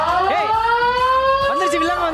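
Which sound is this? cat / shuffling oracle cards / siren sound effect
siren sound effect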